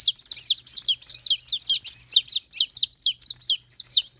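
Rapid, high-pitched peeping from Sebright and Bantam Cochin baby chicks, a steady stream of shrill chirps repeating several times a second, close and loud.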